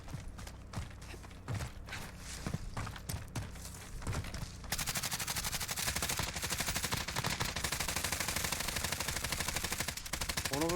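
Rapid automatic gunfire from an online shooter game, with scattered single shots early on and then a long, loud, continuous burst of fast cracks that runs to the end.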